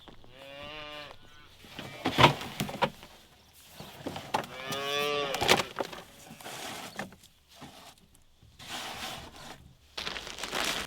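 Calves in a paddock mooing, several drawn-out bawling calls, some overlapping, close and fairly loud, with quieter shuffling and rustling between them.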